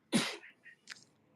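A single sharp sneeze bursts out, close and loud, followed by a couple of softer breathy sounds.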